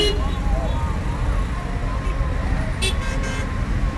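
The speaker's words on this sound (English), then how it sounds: "The traffic here in Egypt is absolutely crazy." Dense Egyptian street traffic with cars close together: a constant low roar of engines and road noise, with brief horn toots breaking through near the end, and voices talking underneath.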